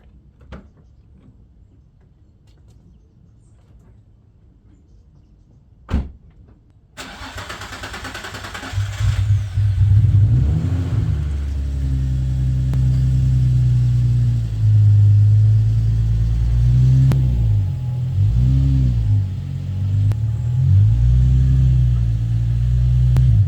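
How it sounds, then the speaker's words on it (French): A six-cylinder Nissan 350Z under restoration, fitted with R8 ignition coils, stays quiet until a single click, then cranks and catches. It settles into a loud, steady low idle that rumbles on close by. "On va démarrer la voiture, je vais la bouger, la mettre un peu plus au centre pour que je puisse travailler autour."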